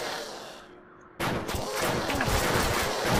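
Dense gunfire bursts in the top-down shooter game Crimsonland, a loud continuous barrage that cuts in abruptly after a quieter lull and keeps going to the end.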